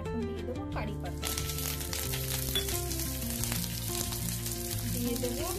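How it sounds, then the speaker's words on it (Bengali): Curry leaves sizzling in hot refined oil in a wok for South Indian chicken, a steady loud frying hiss that runs through the whole clip. "কড়াইতে দিয়ে দিয়েছি আমি রিফাইন অয়েল। এখন দিয়ে দেবো কারি পাতা,"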